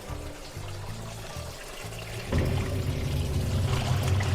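A washing machine running on a Pecron E1500LFP power station, with water pouring in steadily, starting softer and then getting louder and fuller about halfway through. There is no talk.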